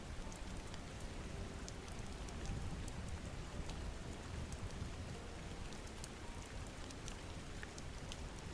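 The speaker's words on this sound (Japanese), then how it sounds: "優しい雨が静かに降り" Steady, gentle rain falls continuously with fine pattering drops on surfaces, soft and even throughout, with no voices.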